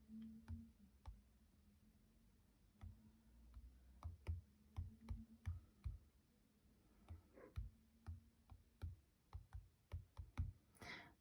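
Someone types text on a computer keyboard, with close, sharp key clicks arriving in irregular bursts and short pauses between runs of keystrokes, with no talking.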